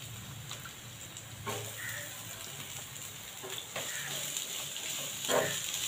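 Finely chopped onions, three medium ones added with a pinch of asafoetida, soften in a hot pan with a steady, fairly quiet sizzle and occasional stirring scrapes, close by and with no voices.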